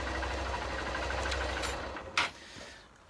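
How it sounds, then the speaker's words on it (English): A Honda CBF 125 motorbike engine idles with a steady low rumble, then cuts out around two seconds in with a short clunk, leaving near silence. "Let's turn this engine off."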